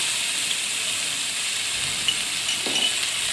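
Capsicum strips fry in a hot pan for aloo patties, producing a loud, even hiss of sizzling oil throughout, with a faint scrape or two near the end.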